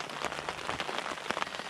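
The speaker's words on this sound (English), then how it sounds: "I'm hoping this rain goes off a little bit" Rain patters on a North Face Mountain 25 four-season mountaineering tent, a soft, steady drumming with scattered sharper drop taps, heard from inside, fairly quiet and with no voices.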